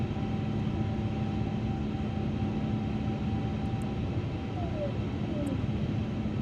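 Airbus A350 airliner engines in a flight simulator climb after takeoff on a Singapore to Perth flight, a steady broadband roar with a faint whine, continuous and even throughout.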